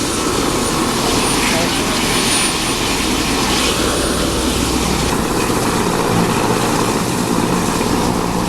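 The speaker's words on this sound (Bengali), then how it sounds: "এটা ওই উড়ে যাচ্ছে হেলিকপ্টারটা" A helicopter flying near the airport outside Gangtok, heard as a loud continuous rotor and engine roar mixed with wind and vehicle rumble, with a voice talking over it.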